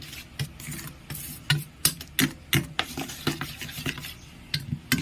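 Egg batter seasoned with salt and ground black pepper is whisked briskly in a bowl, giving a series of quick, close scraping and clinking strokes in an uneven rhythm, with no talk.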